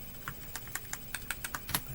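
Keystrokes on a computer keyboard, about ten distinct clicks at an uneven rhythm, close and moderately loud, with no one speaking.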